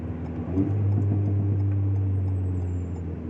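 A tuned Alpine A110 S with a stage 2 remap running on SP98 drones steadily while driving, a low, even engine hum with a slight rise in intensity, close and continuous with no talking.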